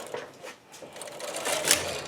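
Silver Reed SK840 knitting machine carriage sliding across the needle bed while knitting tuck stitches, a close whirring clatter that swells and fades, ending in a sharp metallic click, with no talking.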